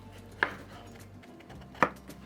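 A knife chops the ends off a bottle gourd, giving two crisp, separate knocks on a cutting board over a quiet kitchen background, with no talking.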